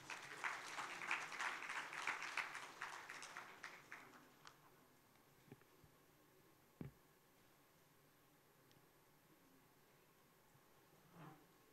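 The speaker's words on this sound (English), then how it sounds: "With a big round of applause" Warm applause from an HR conference audience welcoming a speaker on stage, dense for about four seconds and then fading into quiet room tone with a few stray claps and knocks.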